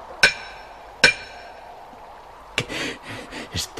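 Hammer striking a nail on a hard stone slab in an audio drama: two sharp, ringing metallic blows about a second apart, then a cluster of duller knocks.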